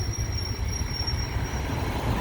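A tour trolley in Savannah rolls down a bumpy cobbled lane, producing a steady low rumble of wheels and body noise with a faint high whine, continuous and close, with no talking.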